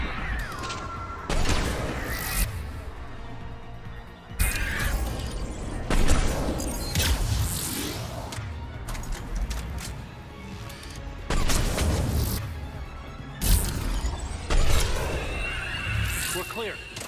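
Mass Effect 3 Legendary Edition combat with repeated bursts of gunfire and impacts, loud and dense across the whole stretch, mixed with game music and effects while someone talks over it.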